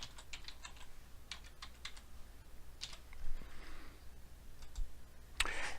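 Fingers type a login number and password on a computer keyboard, producing quick, faint clusters of key clicks with short pauses between bursts, close up in a quiet room.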